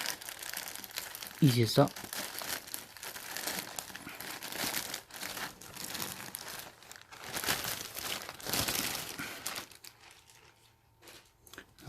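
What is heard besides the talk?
ripping open sweatshirt plastic packaging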